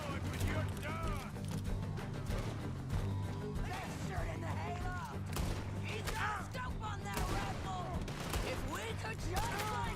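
Gunfire in the video game Red Dead Redemption 2, a dense run of sharp shots cracking repeatedly over game music and effects, loud and continuous throughout.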